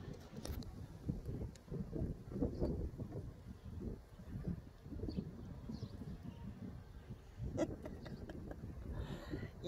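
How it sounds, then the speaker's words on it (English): Gusty wind buffeting the microphone outdoors with a low rumbling roar throughout, and a few faint bird calls in the background. "Oh, and it got windy."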